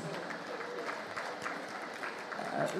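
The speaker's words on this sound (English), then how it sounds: "A round of applause, please" Audience at an Africa Food Prize gala dinner clapping, a sustained, even patter of many hands from a sizeable crowd, moderately distant, with faint voices underneath.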